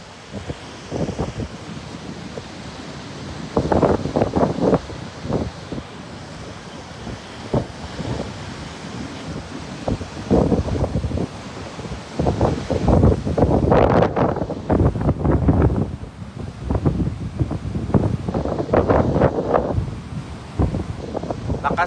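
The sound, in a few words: strong typhoon wind in Aklan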